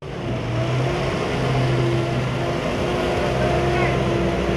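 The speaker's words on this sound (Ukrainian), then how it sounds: "Модернізований бронетранспортер проходить перші випробування. Кілька хвилин і машина рушає з місця." A modernized armored personnel carrier (BTR) pulls away from a standstill, its heavy diesel engine droning loud and steady with low rumbling tones throughout.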